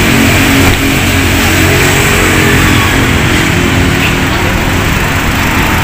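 A used car's engine revs with the hood open, a loud, close, rough roar held steady for several seconds with a brief voice at the start.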